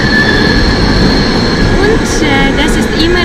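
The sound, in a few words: train passing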